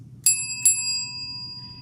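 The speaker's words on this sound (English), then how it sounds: "I will always ring the bell twice." A bell is struck twice, about 0.4 s apart, each strike sharp and bright with a long ringing decay, heard alone over faint room hum in an art room.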